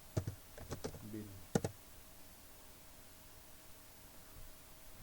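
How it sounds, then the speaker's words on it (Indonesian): A few quick computer keyboard clicks come in a short burst while a MySQL command is typed, then fade into a quiet, faintly humming room. "Selanjutnya masuk ke MySQL dengan cara mengetik"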